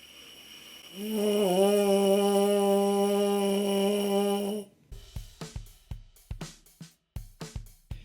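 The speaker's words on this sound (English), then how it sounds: "Firm up the corners until your mouth gets to the point where you get an actual vibration with your lips" A steady buzzing lip tone in a trombone mouthpiece holds for about three and a half seconds, loud and close, then gives way to a series of short sharp clicks and taps.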